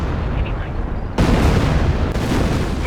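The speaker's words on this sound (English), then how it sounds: "Does dodge the creeping barrage." Creeping artillery barrage in the Company of Heroes game: a dense, continuous roar of shell blasts that rises sharply about a third of the way in and holds loud, with game voices mixed in underneath.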